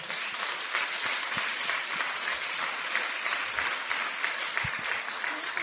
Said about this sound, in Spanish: Brinden un fuerte aplauso al Señor, pues